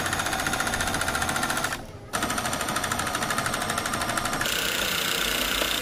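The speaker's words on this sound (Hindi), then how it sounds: "इसी सिलाई के ऊपर सिलाई लगानी है।" A sewing machine stitches fabric, running a fast, even mechanical chatter that pauses briefly, then resumes, close and alone, with no talking.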